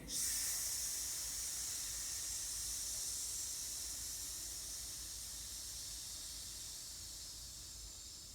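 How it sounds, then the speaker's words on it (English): A person exhales slowly through the mouth during a stress-relief breathing exercise, making a long, steady, snake-like hiss. The breath is close and continuous for about eight seconds, fading slightly toward the end, with no talking. "Let's exhale with that sound like a snake."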